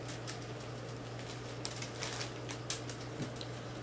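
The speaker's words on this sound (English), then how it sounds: "I can hear it raining now, or hailing." Faint, irregular pattering and ticking of rain or hail hitting a surface during a lightning storm, with a steady low hum underneath.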